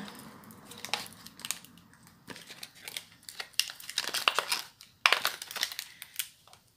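A taped parcel being wrestled open by hand, with repeated crinkling, crushing and tearing of tape and packaging in irregular bursts, close and fairly loud, no talking.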